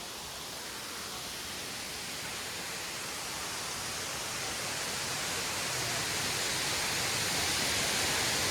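Kuyemari waterfall at Keshkal, Chhattisgarh, a steady broadband roar of falling water that swells slightly louder over the span, continuous and fairly distant with no other sounds.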